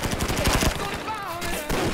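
Rapid gunfire bursts from an action shootout in the 2012 film Expendables 2, loud and dense, mixed with a musical score and effects across a couple of seconds.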